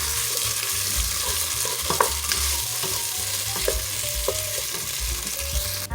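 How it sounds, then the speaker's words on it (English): Tomato paste being stirred into sizzling beef stew in a pot, a steady close frying hiss with soft scraping spoon strokes throughout. "next I'm going to add in my tomato paste. And I'm going to mix that around well"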